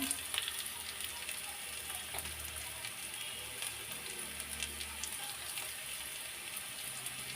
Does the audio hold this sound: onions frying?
yes